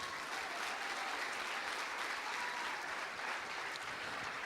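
Sustained applause from a large church congregation, dense and even throughout, heard from within the room at moderate volume with no one speaking.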